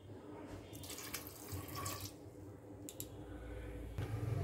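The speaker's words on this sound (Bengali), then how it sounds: "চায়ের কাপের 2 কাপ পরিমাণ জল দিয়ে দিচ্ছি।" Two cups of water splash steadily into a cooking pot holding a whole unpeeled potato for vegetarian ghugni, a continuous close pouring sound with faint clinks.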